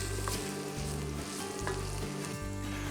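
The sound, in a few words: stirring paprika chicken in a pan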